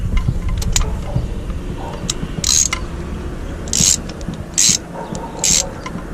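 A ratchet tightens a new spark plug on a 2001 Pontiac Sunfire 2.2L engine, giving several short bursts of clicking pawl strokes, close and fairly loud, separated by brief pauses.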